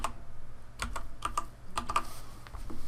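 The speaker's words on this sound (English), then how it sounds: "I could type in normal" Keys clatter on a computer keyboard in short irregular bursts while a name is typed into a texture-design program, close and moderately loud with no talk.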